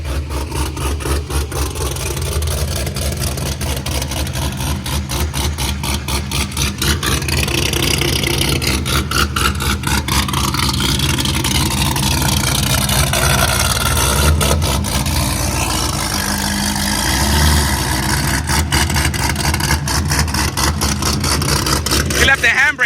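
A 442 fitted with an LSX engine running at a steady, loud idle just after first start-up, with a rough rhythmic thrum and a few slight rises in revs while people talk nearby.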